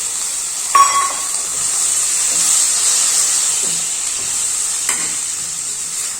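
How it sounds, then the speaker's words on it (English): Tomatoes frying with onion in a lightly oiled pan for a soya chunks masala, a steady loud sizzle and hiss running throughout, with a few sharp clinks and stirring scrapes of a utensil against the pan. "So now I'm going to add the tomatoes"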